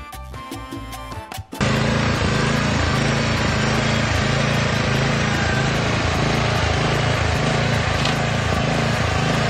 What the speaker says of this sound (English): Don't let your friend do anything with your lawnmower.